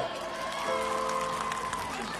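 A crowd at a live stage comedy show claps and cheers in a steady, dense wash of applause with scattered shouts, loud and continuous throughout.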